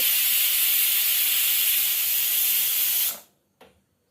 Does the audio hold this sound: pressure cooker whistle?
yes